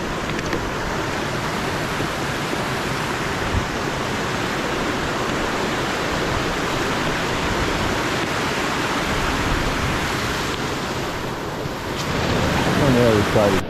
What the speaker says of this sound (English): Okay, we've come to a bridge over Teepee Creek.